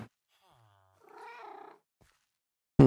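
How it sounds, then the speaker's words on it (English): A Minecraft cat sitting outside a window gives a single short meow, preceded by a faint thin tone and followed by an abrupt loud burst at the very end. "a cat sitting outside that window right there. And they're meowing."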